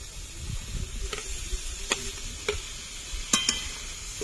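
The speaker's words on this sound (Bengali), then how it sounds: "আবারও কষে নেব।" Fried prawns being stirred in a pan with Kashmiri red chili powder, a soft steady sizzle under intermittent scraping stirs and a few sharp spatula clinks, fairly quiet and close.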